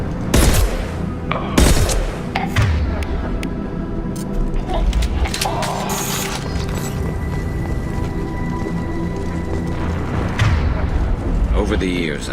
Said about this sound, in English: The Blue Suns and Vorcha shooting anything that moves.